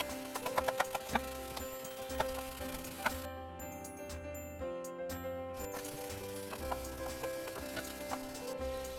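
Italian sausage fries in a pan for a quick Italian sausage soup, giving a steady close sizzle with crackling pops that run throughout, sharper at the start, with no talking.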